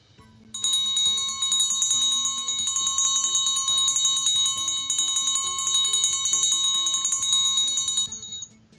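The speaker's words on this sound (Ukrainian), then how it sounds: "це дзвенів дзвіночок" A small bell rings continuously for about eight seconds, bright and sustained, with a faint low hum underneath before it stops abruptly.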